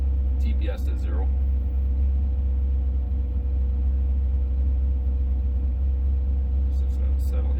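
A car engine idles steadily during throttle position sensor troubleshooting, a loud, close, constant low rumble as the RPMs settle, with brief faint clicks near the start and end.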